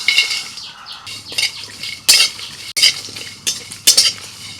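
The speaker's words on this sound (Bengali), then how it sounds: "এই সব মশলাগুলো একসাথে শুকনো কড়াইতে ভেজে নেব" Whole spices such as cardamom, nutmeg, mace, cinnamon and cloves dry-roasting in a dry pan for biryani, with repeated sharp scrapes and clinks of a spatula stirring against the metal, close and alone.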